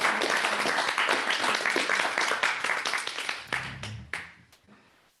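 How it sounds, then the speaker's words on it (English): A group of people claps together in a dense, loud burst that holds steady for a few seconds, then thins out into scattered claps and fades. "yeah, clap, yeah."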